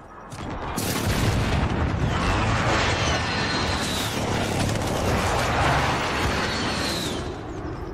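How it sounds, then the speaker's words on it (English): Explosions from a precision airstrike in the Modern Warfare video game form a loud, sustained roar of blasts and rumbling that lasts for several seconds, with whistling streaks passing overhead. "Be advised, friendly precision airstrike inbound."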